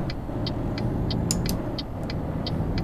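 A heavy-cargo truck engine at full throttle in Euro Truck Simulator 2 gives a steady, loud low drone, with light periodic clicks ticking above it.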